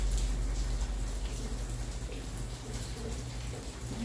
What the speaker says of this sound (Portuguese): Vocês estão escutando a chuva?